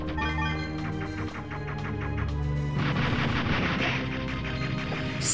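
Rapid volleys of weapon fire from Megaman 64 with upgraded seeker missiles, dense and continuous over a musical backdrop, growing louder and busier halfway through.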